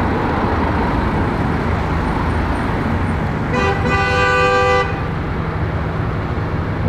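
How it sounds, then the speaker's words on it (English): Car and bus horns honk together from a queue of traffic, a loud close chorus of overlapping toots lasting about a second, set against steady roadway rumble and idling engines. "Now everybody's starting to beat their horns."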